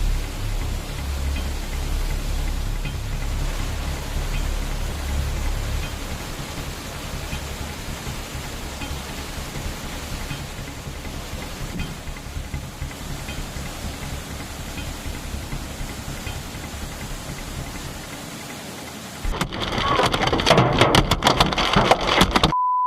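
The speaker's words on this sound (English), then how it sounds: "This isn't just rain, it's destruction from the sky." Heavy rain in a violent downpour, a broad steady hiss of water pouring down for most of the stretch, ending in a louder, harsher burst of rushing, pelting noise.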